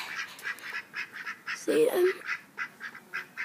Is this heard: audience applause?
no